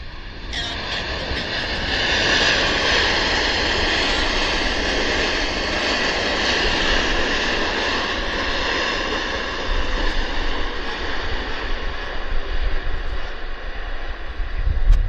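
An aircraft lands at Vancouver Airport, a loud, sustained engine roar with a whining turbine tone. It holds steady and close for the whole stretch, growing slightly rougher toward the end, with no talk over it.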